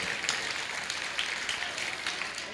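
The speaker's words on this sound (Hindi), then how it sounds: "तो एक बार इनके सम्मान में भी और मेरे सम्मान में भी तालियां बजा दो बढ़िया ढंग से।" Audience applause at a Hindi comic poetry gathering, a steady dense wash of clapping from a crowd, fairly distant and even throughout with no clear individual claps standing out.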